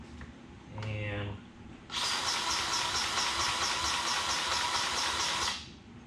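Grease gun fitted with a Lock-N-Lube coupler pumping grease into a fitting during weed eater maintenance: a brief mechanical squeak, then a steady loud hissing, sputtering push of grease lasting several seconds before cutting off.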